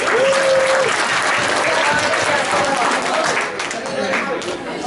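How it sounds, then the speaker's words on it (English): Audience applause after a school poetry recitation event, a steady dense wash of clapping from a crowd filling the hall, loud throughout and easing slightly near the end, with a brief voice audible early on. "Why don't we give a round of applause for Kader Imani?"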